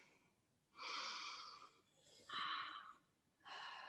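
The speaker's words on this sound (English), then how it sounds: "Taking a deep breath" Close, soft breaths in a quiet room: a long audible inhale, then a slower exhale, then another breath beginning, each with a faint airy wheeze.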